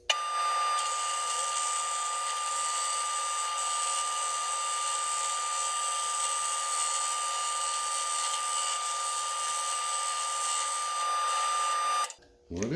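A metal lathe turns a bar for a telescopic pole, giving a steady, high, whining drone that runs nearly unbroken for about twelve seconds before cutting off abruptly at the end.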